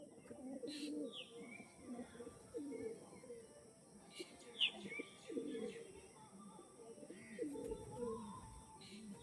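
Pigeons of the Rajanwala breed coo softly and steadily in a loft, low murmuring calls overlapping throughout with a few faint chirps, under someone talking.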